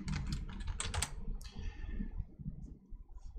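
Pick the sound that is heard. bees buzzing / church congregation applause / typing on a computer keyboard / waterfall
typing on a computer keyboard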